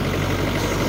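Tractor engine running steadily at a farm, a continuous low rumbling idle with no gaps, close and fairly loud throughout.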